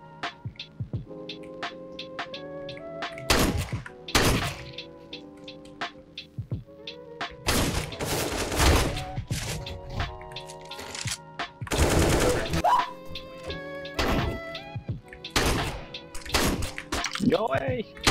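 Rapid gunfire from Counter-Strike: Global Offensive, with loud bursts of automatic and single shots and impacts over game music and sound effects, while a voice talks and reacts excitedly.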